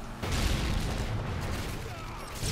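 Dense, continuous gunfire from a Call of Duty Modern Warfare 3 match, rapid shots and booms blending into a loud, steady barrage throughout.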